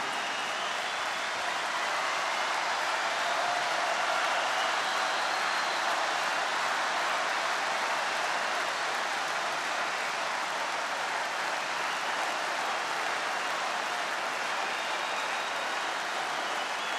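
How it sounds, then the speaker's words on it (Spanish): Sustained dense applause from a large festival audience at the Viña del Mar Festival 2012, a steady wash of clapping that stays loud and even for the whole stretch with no voices standing out. "Este aplauso es para ti."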